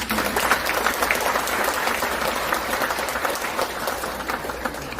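Dense, steady applause from a large crowd of citizens at a Liberation Day (Gwangbokjeol) ceremony, continuous and fairly loud for the whole stretch with no gaps.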